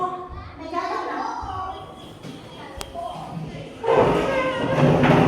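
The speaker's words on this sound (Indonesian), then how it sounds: "Kita geser-geser dulu mejanya." Students shift classroom desks around, with scattered thumps and scraping shuffles under children's chatter. The sound swells into a louder, busier clatter of movement toward the end.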